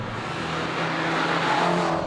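A Fiat 500 Abarth driven hard through tight corners, its small turbocharged engine droning and rising in pitch as it accelerates, heard steadily and fairly close for a couple of seconds with no talk.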